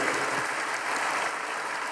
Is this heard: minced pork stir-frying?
no